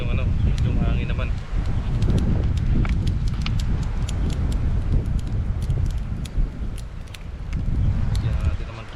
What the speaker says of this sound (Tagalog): Sarap ng hangin dito sa ilog.